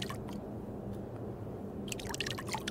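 Water pouring and dripping out of a refillable water bottle in the VR extraction shooter Ghosts of Tabor, a short liquid splash and patter with sharper drips toward the end.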